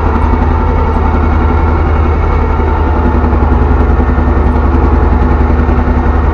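A homemade tractor, built from scrap metal, runs in a damp field while harrowing and sowing: a loud, close, steady engine chug with an even rapid pulse and no talk.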